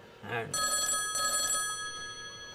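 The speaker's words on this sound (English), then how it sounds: "Someone's on the phone." A telephone bell rings in one loud, shrill burst of about a second after a short spoken sound, then fades, heard close in a comedy sketch.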